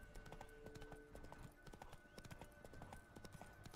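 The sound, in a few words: Geralt's horse Roach trotting, from video game The Witcher 3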